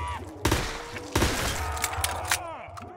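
Gunfire rings out against zombies in a Call of Duty custom zombies map: a few loud, punchy shots spaced unevenly over a background of game noise and echoing tails.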